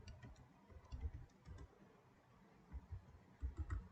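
Keys tapped on a computer keyboard to enter a command: faint, sparse clicks in small clusters over a low background hum, no voices.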